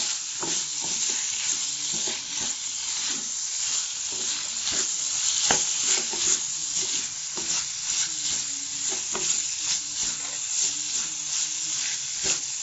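Beef fry with ground black pepper stirred in a pan, a steady loud sizzle with repeated scraping strokes of the spoon throughout, no voices.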